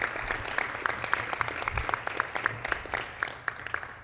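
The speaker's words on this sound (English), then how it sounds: "Please give them a round of applause." A crowd at a Pasco County shoe and sock drive event applauds the Ridgewood High School Chorus and Navy Junior ROTC, with sharp, distinct claps scattered across a lively, sustained round of applause.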